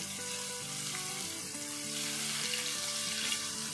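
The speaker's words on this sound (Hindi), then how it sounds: "चिकन को फ्राई करते हुए तकरीबन 5 मिनट हो गए हैं" Chicken fries over high heat with a constant bright sizzle, and a melodic tune plays steadily over it.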